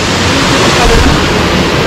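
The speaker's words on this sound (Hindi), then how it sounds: "तो हल्का फुल्का छोटा सा झरना" A small waterfall near Dalhousie in Himachal, heard as a loud, dense, continuous rush of falling water that stays constant and close throughout.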